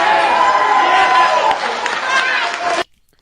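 A rally crowd roars and chatters continuously at close range, a dense wash of many voices and cheering that holds steady before cutting off abruptly near the end.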